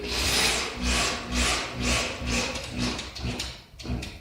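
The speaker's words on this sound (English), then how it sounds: "when you're screwing this in, you'll feel it" A drywall screw being driven into a wall during a repair makes a loud, rhythmic grinding rasp, repeating about twice a second, close up and alone.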